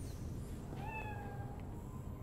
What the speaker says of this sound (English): there's that fucking cat from earlier.